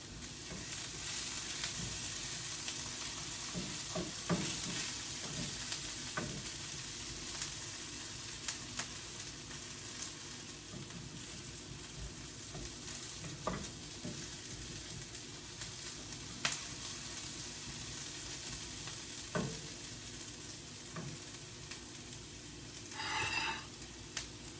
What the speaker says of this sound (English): So the only one that's still cooking is the potatoes.